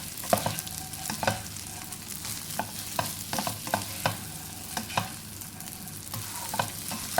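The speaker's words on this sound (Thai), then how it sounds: "ผัดไปเรื่อยๆเลยนะคะจนข้าวนิ่มนะคะ" Leftover rice stir-fried for shrimp paste fried rice, a steady sizzle under repeated scraping strokes of a spatula against the pan, close and fairly quiet, no talk.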